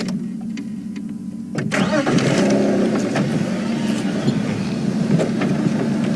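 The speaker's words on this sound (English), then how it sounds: "Copy, I've just started my vehicle, you should hear me." A safari vehicle engine starts partway through, then settles into a steady mid-pitched running rumble over earlier faint background sound, moderately loud and close.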